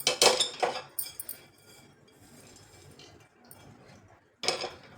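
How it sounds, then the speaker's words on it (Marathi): Moong and urad dal roasting together in a pan for traditional metkut, with scraping and clinking bursts of stirring at the start and end and a quieter low sizzle between. "आता मूग डाळ आणि उडीद डाळ दोन्ही एकत्रच भाजायचं"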